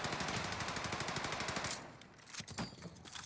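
Rapid automatic gunfire from Call of Duty: Warzone on the Caldera map, a dense rattling burst for almost two seconds, then scattered fainter shots and clatter.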